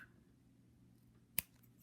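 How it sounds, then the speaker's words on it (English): A pair of scissors snips through yarn in a single quick, crisp cut, close and quiet in an otherwise still room. "Grab a pair of scissors. Cut it right off."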